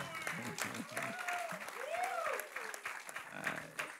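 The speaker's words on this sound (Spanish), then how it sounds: "Esto lleva aplausos también." A church congregation applauds, steady clapping spread through the room while voices carry on over it.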